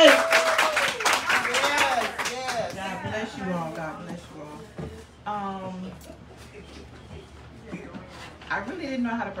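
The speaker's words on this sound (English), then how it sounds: "Let's give a hand clap to Lady K." Audience at a prayer brunch clapping for a presenter, a burst of applause at the start that fades under a person speaking through most of the stretch.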